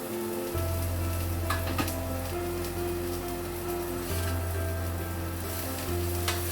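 Onions and mushrooms with Chinese spice powder fry in a pan, sending out a continuous close sizzle over a low steady hum, with a few scraping stirs along the way and no voices.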